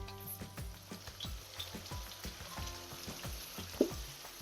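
Diced tomato sizzles and fries in a pan while being stirred, a steady close crackle broken by repeated soft scraping strokes, with no voices.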